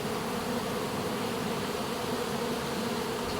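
Honeybees buzzing inside a hive during spring brood rearing, a steady dense droning hum that carries on without a break, close and even throughout.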